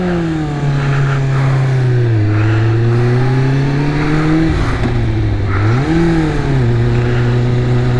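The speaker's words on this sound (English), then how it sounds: "I'm like revving really high and everything, just trying to change gears" A 2001 Kawasaki Ninja ZX-6R motorcycle engine revs high and holds, its pitch dipping and rising as gears change, loud and close throughout.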